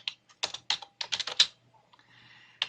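Computer keyboard typing in quick clustered bursts of crisp, close key clicks, then a short pause and a final few taps, with no talk.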